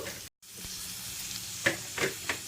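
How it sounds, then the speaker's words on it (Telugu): Carrots fry in a pan with a low steady sizzle, broken by a brief dropout and then a few sharp utensil scrapes toward the end, close by and without talk. "వేపాకు మీద మీద కొంచెం వీటిని కూడా క్యారెట్ను కూడా వేయించుదాం అనమాట"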